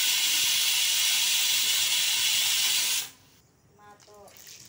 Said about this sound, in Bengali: তারপরে প্রেসার করে সিটি জ্বালাইছি